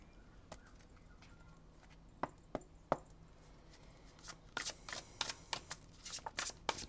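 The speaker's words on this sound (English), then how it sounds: "We'll do one more shuffle" Crisp riffling tarot card shuffles, a few sharp snaps followed by a quicker flurry of papery bursts, close and fairly quiet with no talking.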